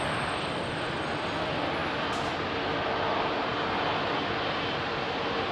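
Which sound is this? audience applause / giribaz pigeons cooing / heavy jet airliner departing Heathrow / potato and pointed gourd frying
heavy jet airliner departing Heathrow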